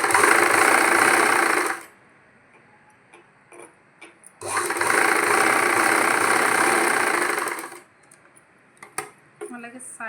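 A sewing machine stitching the box seam of a Punjabi pant runs in two sustained whirring bursts of about two and three and a half seconds, with quiet handling taps and fabric movement between them.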